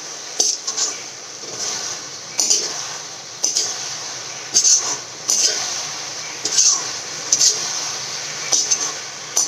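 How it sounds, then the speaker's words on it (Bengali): Greens and vegetables being stirred together in a pan, a utensil clinking and scraping against the metal in irregular knocks every second or so over a soft, moist shuffle, close by with no talk. "এবারে আমি শাক এবং সবজি সমস্ত ভালো করে মিশিয়ে দিই"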